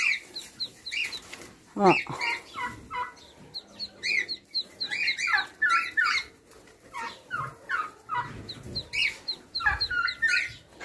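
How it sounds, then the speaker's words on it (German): Turkeys kept up above call in a steady run of high, clucking poultry notes, near and fairly loud, mixed with short bursts of other birds while a person talks at times. "die Puten sind immer noch da oben"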